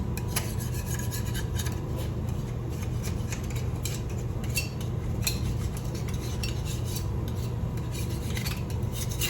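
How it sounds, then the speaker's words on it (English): Scraping and scrubbing on a Massey Ferguson 50 tractor's pump mounting surface, a steady rasping rub with repeated strokes, close and continuous without speech. "Clean off the surface so the silicone adheres good."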